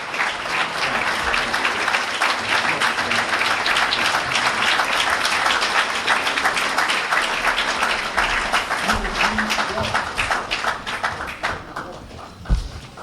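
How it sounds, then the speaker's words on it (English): A New York audience at an Islamic lecture gives a speaker steady, dense applause that holds for several seconds, then thins and tapers off near the end. "Let's give him a New York well-deserved round of applause."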